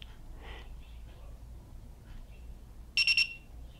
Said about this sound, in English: it, of course, gives you alarms once you hit anything above 40 degrees